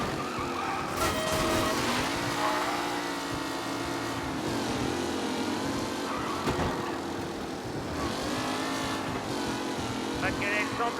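Cars roar and strain while racing for the lead in the game Mafia, engines rising and falling in pitch over about eleven seconds with occasional skids, under someone talking.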